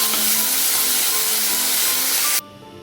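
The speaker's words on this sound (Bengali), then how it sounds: "মাছগুলো ভেজে নিচ্ছি।" Shrimp frying in mustard oil in a wok, a loud, dense, steady sizzle that cuts off abruptly near the end, leaving a quiet background.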